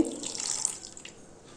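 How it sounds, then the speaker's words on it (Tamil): Water splashes from a vessel into a pan of grated beetroot, a short close pour that tapers off within about a second, with no voices. "அதை கடாயில் போட்டு கொஞ்சமாக தண்ணி விட்டு"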